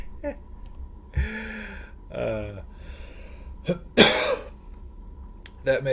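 After an attempt to imitate a seal, a man lets out vocal bursts, a rough barking sound, and then a loud harsh cough, with short throat noises around them in a quiet room.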